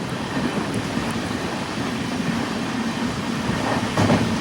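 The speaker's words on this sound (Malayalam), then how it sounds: "ട്രെയിൻ ഇപ്പോൾ മാഹി സ്റ്റേഷനിലേക്ക് ഇതാ എത്തി." A Mangaluru–Tirunelveli express rolling into Mahe station, heard from inside a sleeper-class coach as a steady, loud rumble and rush with a faint low hum, and a slight swell near the end.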